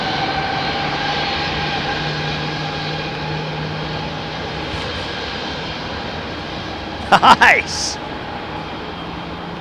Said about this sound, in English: Qatar 777